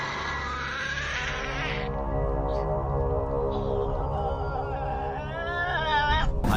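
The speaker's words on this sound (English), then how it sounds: "The first one is Tasmanian Devil" A Tasmanian devil gives harsh, screeching calls: raspy, strained cries that waver and break, heard close and loud with short pauses between outbursts.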